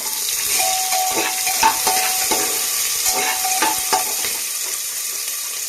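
Onion and green chilli fry in a pan over a low flame, a loud close sizzle broken by repeated spatula scrapes and clinks as they are stirred.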